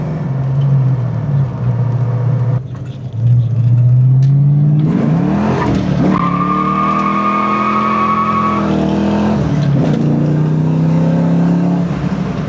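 A Ford Mustang Foxbody with a T5 manual transmission drives and revs loudly up close, its engine note climbing and settling through gear changes with no voices over it.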